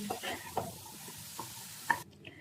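Elephant foot yam pieces fry in oil until reddened, with a low, steady sizzle and a few sharp spatters and stirring clinks scattered across the short stretch before it abruptly quiets.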